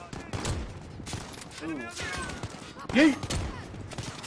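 A single sharp, loud sniper rifle shot in Call of Duty Modern Warfare rings out midway, surrounded by other in-game noises and someone talking throughout.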